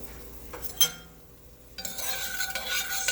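Garlic and about half a teaspoon of salt sweat in a hot pan in a home kitchen, a soft steady sizzle building after a brief clink of a utensil, close and alone with no talk.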